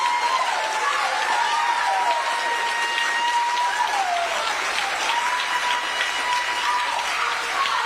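Steady, loud applause from a large crowd fills the whole stretch, with a faint whistle-like tone drifting beneath the clapping.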